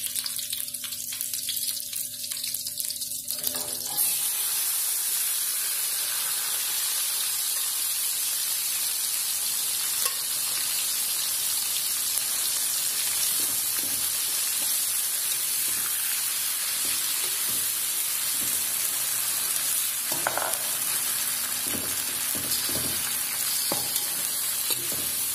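Grouper pieces sizzle and fry in fragrant sautéed spices for an Aceh-style curry, starting after a quiet moment and settling into a steady, close, bubbling hiss with occasional stirring clinks.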